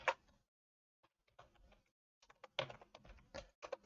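Fingers typing a spreadsheet formula on a computer keyboard, with quiet bursts of key clicks separated by short pauses, the tapping quickening toward the end.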